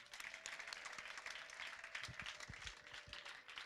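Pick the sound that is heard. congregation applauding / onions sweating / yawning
congregation applauding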